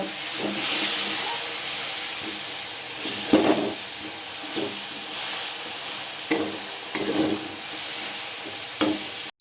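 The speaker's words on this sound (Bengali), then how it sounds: "গুড়টা ভালোভাবে গলিয়ে নেব।" Cane jaggery melting in a pan for a jujube pickle, giving a steady broad hiss and sizzle with occasional stirring scrapes, close and fairly loud, with no talking.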